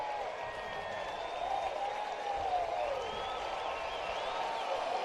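Oklahoma City Dodgers fans in a 2018 minor league PCL ballpark cheer an extra base hit against El Paso, a steady, distant crowd roar with applause and whistles that holds throughout.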